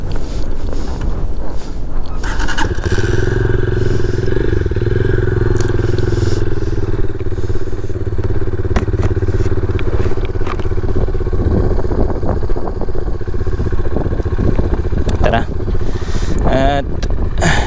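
Rusi Classic motorcycle engine pulling hard on a climb, a steady loud drone heavily buffeted by wind noise, with a voice speaking over it.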